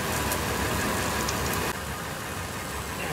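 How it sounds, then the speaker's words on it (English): A Toyota 4Runner engine idles with a steady low rumble while excess transmission fluid drains, the whole scene a continuous broadband wash with a slight drop in level partway through. "We're going to let this excess fluid drain with the engine idling."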